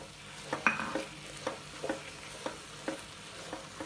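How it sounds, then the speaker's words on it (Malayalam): Blended tomato stirred in a hot pan for channa masala, with a soft sizzle under regular spoon scrapes and clinks against the pan, fairly faint and without talk. "നെക്സ്റ്റ് നമുക്ക് ജ്യൂസ് അടിച്ച് വെച്ച ടൊമാറ്റോ ഇതിലേക്ക് ആഡ് ചെയ്ത് കൊടുക്കാം."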